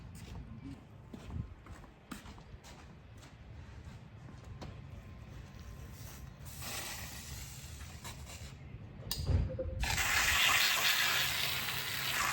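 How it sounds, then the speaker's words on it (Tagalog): A household tap turned on, water rushing steadily into the sink after a stretch of clattering and handling noises; the running-water hiss starts abruptly near the end and stays loud and close. "Buksan ko lang yung tubig."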